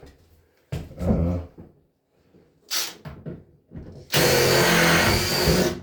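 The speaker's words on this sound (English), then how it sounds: "And run our screw in." Power drill driving a screw into a built-in-place wooden cabinet frame during assembly, a sustained loud whirring burst near the end after a few short knocks and handling sounds.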